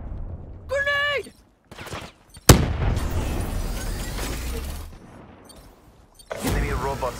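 Grenade blasts and gunfire in Black Ops III: a sharp loud explosion with a long rumbling tail, plus bursts of combat noise and warbling robotic game tones before and after.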